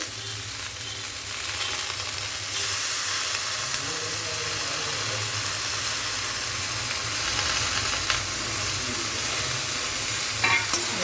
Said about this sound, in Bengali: এবারে সজনের ফুলগুলোকে সব দিয়ে দিচ্ছি